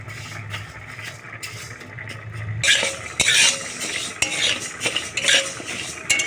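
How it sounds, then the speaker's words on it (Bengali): Masoor lentils dry-roasted in an oil-free kadai, a spoon scraping and clattering against the metal in irregular bursts over a rustling, gritty shuffle of grains that grows louder partway through. "মুসুর ডালটা আমি শুকনো কড়াতে ভেজে নেব কোনো তেল দিইনি"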